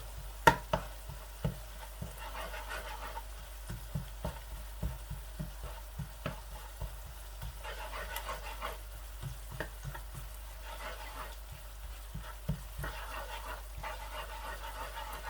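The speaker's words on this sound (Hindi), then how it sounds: "इस तरीके से लहसुन को थोड़ा सा हम पकाएंगे" Steady low sizzling of garlic frying in a pan, punctuated by frequent clicks and taps of a utensil stirring, continuing without speech.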